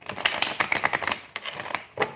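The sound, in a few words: shuffling tarot cards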